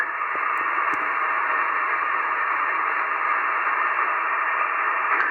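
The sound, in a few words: shortwave radio receiver static noise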